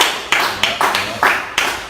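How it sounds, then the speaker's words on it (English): A handful of people clap in a sparse, uneven rhythm, close by, a few distinct claps spaced about a third of a second apart. "Clap for Charles,"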